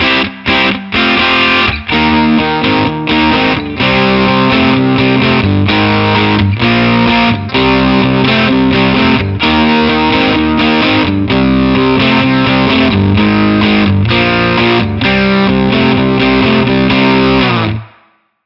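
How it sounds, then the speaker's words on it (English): Overdriven electric guitar through a Mesa Boogie California Tweed amp plays loud, gritty chords and riffs with a bright, crunchy, zingy edge, sustained throughout before cutting off at the end. "It's got that kind of a zingy sort of an overdrive"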